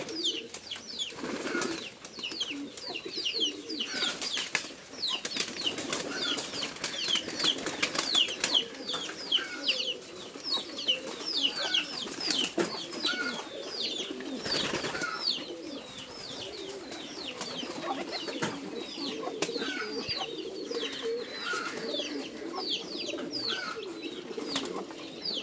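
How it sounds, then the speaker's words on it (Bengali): A flock of pigeons comes down to feed, bursts of flapping wings mixed with overlapping cooing and chirps, busy and close throughout with loud wingbeat flurries near the start and middle. "সবগুলো কবুতরই গিট খাওয়ার জন্য নেমে গেছে।"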